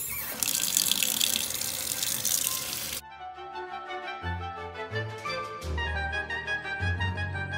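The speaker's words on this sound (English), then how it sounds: "rinse the chamois again under cool water" Cool tap water runs steadily as a chamois cloth is rinsed under it, a loud continuous splash for about three seconds before it gives way to a soft musical backing.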